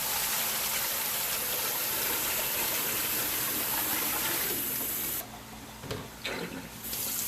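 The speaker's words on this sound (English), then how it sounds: "I'll pour this water out while I have a sink free." Water from a jar is dumped into a kitchen sink during pickle canning, a loud, close gushing splash that runs steadily and then breaks into a few shorter sputtering bursts near the end.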